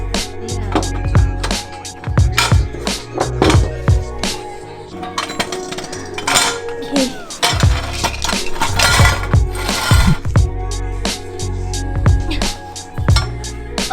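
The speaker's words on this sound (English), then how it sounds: "I'm just gonna start taking all the bolts off." Bolts come off a Nissan S14 exhaust header: close, sharp metallic clinks and ratcheting clicks repeat irregularly throughout.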